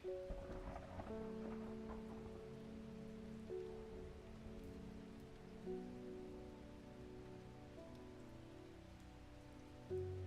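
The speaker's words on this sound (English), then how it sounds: "I don't know if you heard thunder outside." Steady rain patters on a surface outdoors, soft and continuous with faint low rumbles that may be distant thunder.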